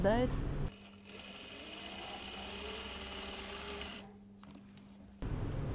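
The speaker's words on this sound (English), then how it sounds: "I need to stitch it now in order to press it open" A sewing machine stitches a seam on a cashmere jacket, running in one steady, fairly loud mechanical whir for several seconds before stopping abruptly.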